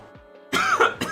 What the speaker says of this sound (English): Oh, you got my old man cough.